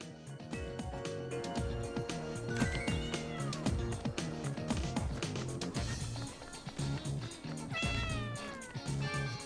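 A cat meows in the game Raidou Remastered, several distinct calls rising over a dense, continuous musical score that plays throughout.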